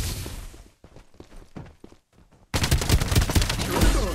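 Gunfire in the video game Farlight 84: scattered shots and impacts for about two and a half seconds, then a loud, dense fusillade of rapid automatic fire that continues to the end.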